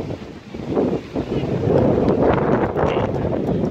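Wind gusting hard across a microphone in Kingston Park in Chatham-Kent, a loud rumbling roar that swells and stays strong throughout, with no speech.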